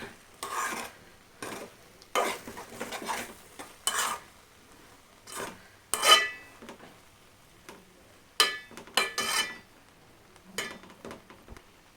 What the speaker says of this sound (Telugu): వేసుకొని అంతా ఇలా కలుపుకోవాలి